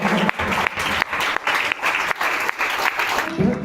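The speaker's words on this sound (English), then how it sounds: "please give him a round of applause" An audience at an English coaching academy event applauds the arriving chief guest, loud, dense clapping sustained throughout with brief dips, voices faintly mixed in.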